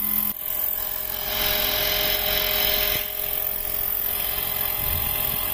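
Roban Airwolf 800-size model helicopter coming in to land, its steady rotor and turbine whine holding loud and continuous throughout with no talk.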